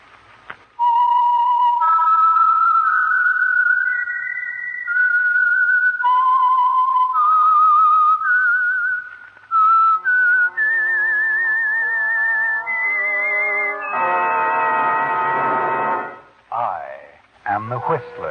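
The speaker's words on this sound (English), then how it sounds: "the signal to listen for is this whistle that identifies the program" Signature whistle of The Whistler radio mystery program, a clear melodic whistled tune of sliding, wavering notes rising toward a brighter sustained passage, loud and alone with orchestral accompaniment joining near the end.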